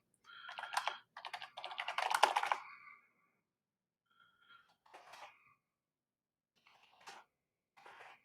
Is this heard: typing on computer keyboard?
yes